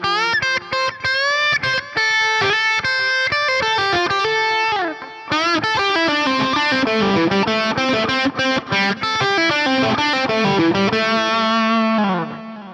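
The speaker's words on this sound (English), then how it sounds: "So our lead tone with the Super Lead running into LT TV Mix 7 sounds like" An electric guitar lead tone through a Fractal Super Lead amp model plays a continuous run of distorted, sustained notes with bends and effects, loud and alone.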